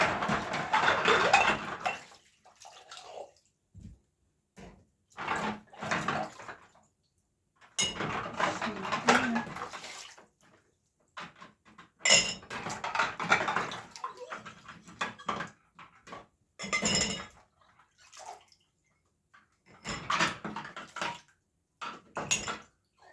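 Off-grid hand dishwashing at a wooden bench with a dish rack, pots and cutlery clinking and water sloshing in bursts separated by short pauses, close and moderately loud.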